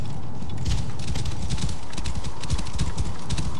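Horses gallop in Assassin's Creed Origins, a fast, steady drumming of hooves close up and loud, continuous across the moment with no voices over it.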